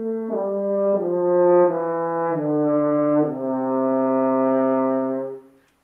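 A French horn plays a soft, slow descending scale, each sustained note stepping down smoothly before the last one fades out, warm and close with no voices.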